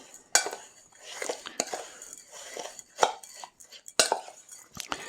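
Black pepper and brown sugar being stirred together for a pork belly bacon cure, with scattered clinks and scrapes of a utensil against a bowl, close and fairly quiet with brief pauses.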